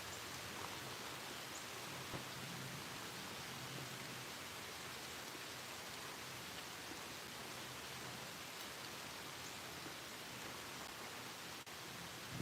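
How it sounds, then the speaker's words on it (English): Rain falling outdoors as a steady, even hiss of drops, faint and continuous, with no talking. "it's starting to rain"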